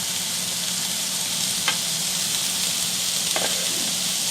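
Onion bhaji frying in a pan for a chicken omelette gives a steady, close sizzle and hiss, with two brief utensil taps breaking through the otherwise even crackle.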